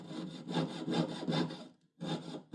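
A fine jeweler's saw blade rasps through sterling silver in steady back-and-forth strokes, close and clear, pausing briefly before cutting resumes.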